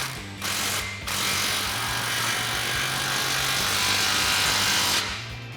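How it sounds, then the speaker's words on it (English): A 16mm socket on a tool tightens an exhaust clamp on a 2016-2023 Camaro cat-back exhaust. A loud, close mechanical whir runs almost nonstop, broken by brief pauses near the start. "we'll tighten that down with a 16mm socket"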